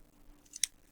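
Scissors snipping through folded paper to cut out a triangle for a craft lizard, two quick faint crisp snips close by, otherwise quiet.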